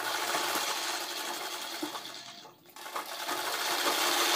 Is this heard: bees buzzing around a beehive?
no